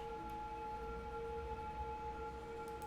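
Emergency vehicle sirens from police cars in the city-building game Cities Skylines, a steady electronic wail of several overlapping tones held continuously at moderate level with a low rumbling bed beneath, no voices.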